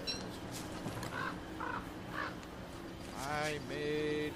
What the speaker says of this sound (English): This bird.